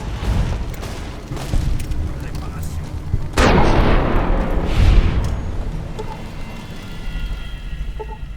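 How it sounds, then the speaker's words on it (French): A grenade explodes in the video game Fallout New Vegas, a single heavy boom that bursts loud and then rumbles away over several seconds, layered over ongoing game noise. "Grenade."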